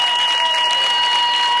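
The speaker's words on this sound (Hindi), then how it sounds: "जोरदार ताली से स्वागत करी हमनी के रवि किशन भैया" Loud, sustained audience applause in a studio at a Bhojpuri singing reality show, welcoming Ravi Kishan on stage, a continuous wall of clapping with a steady electronic tone ringing underneath.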